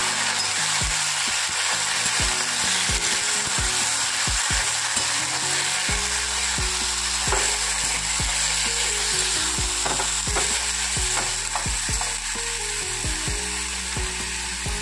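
Sour greens tossed into a wok with mustard seeds fry with a loud, continuous sizzle, while repeated scrapes and knocks of the stirring spoon recur throughout at close range.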